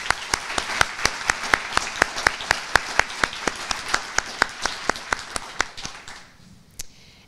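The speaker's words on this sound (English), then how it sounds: "I'd like to pause and give those folks a round of applause" A university lecture audience applauds nominated faculty: steady, evenly spaced claps stand out over a softer bed of crowd clapping, then fade to scattered claps and silence near the end.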